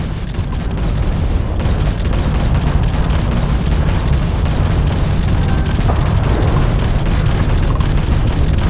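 Spaceship weapons fire and explosions during a Starfield space dogfight on PS5 Pro, a dense, continuous roar of blasts and rumbling booms with crackling bursts throughout.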